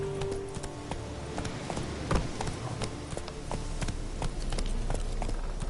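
The horse Roach galloping in the video game The Witcher 3: Wild Hunt, a continuous rapid clatter of hooves under ambient game sound, fairly close and steady.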